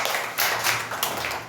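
Children in a classroom clapping together during a prayer, a short run of quick, moderately loud claps with no voices.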